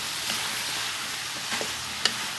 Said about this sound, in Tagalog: Haluin lang po natin ng konti para kumapit na po kagad yung mga lasa.